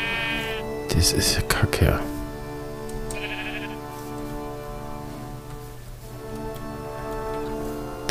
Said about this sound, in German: Schafe gibt es jede Menge.